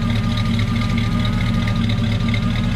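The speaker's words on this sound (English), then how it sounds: "I'll let you hear the exhaust here." A 1937 Chevy step side truck idles with a steady, deep exhaust rumble, close and continuous without any change in revs and no talk.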